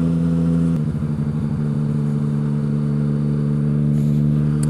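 Yamaha MT-09 / FZ-09 motorcycle engine running steadily under way, a loud droning hum with a brief dip in pitch as a clutchless gear shift goes through, then a smooth continuous pull with wind rush.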